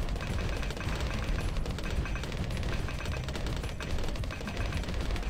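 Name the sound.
explosions in Bloons TD Battles video game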